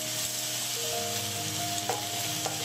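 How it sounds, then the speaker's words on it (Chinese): Pork belly is stir-fried with sweet bean sauce in a hot wok, producing a continuous loud sizzle and light scraping as the pieces are tossed, close up with no talking. "加入甜面酱20克，再将所有食材翻炒一下"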